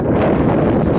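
Steady wind blows in cold, breezy woods, a loud continuous rushing buffet with no breaks, heard alone.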